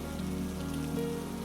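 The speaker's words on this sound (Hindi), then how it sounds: "लेकिन बारिश बंद ही नहीं होती और कोई भी ग्राहक नहीं आता है।" Steady rain falls continuously on surfaces outdoors, a soft even hiss over a low droning background with no voices.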